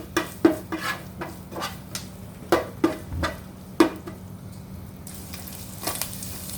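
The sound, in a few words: frying chopped ginger and garlic in a pan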